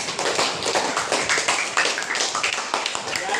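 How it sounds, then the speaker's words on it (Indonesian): A classroom of students claps together for a classmate who answered correctly, a dense run of quick, overlapping hand claps that stays steady and fairly loud for the whole span. "Kasih tepuk tangan."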